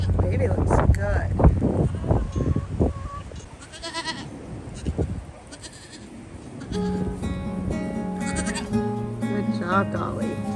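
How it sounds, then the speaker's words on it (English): A newborn black and white goat bleats several times in short, high cries, with people talking nearby and other animal sounds around. "it's a little black and white goat"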